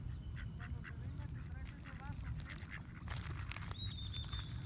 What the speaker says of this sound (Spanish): Mira, ahí llegaron dos patos, mira.